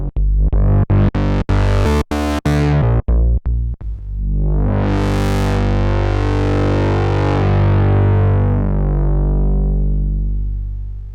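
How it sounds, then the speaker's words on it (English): Novation Summit synthesizer played through overdrive after the filter stacked on distortion: a gated, chopped burst of harsh buzzing chords, then a long, loud, saturated sustained tone that slowly fades. "So you're adding an overdrive there after the filter, and that's on top of the distortion and on top of the overdrive"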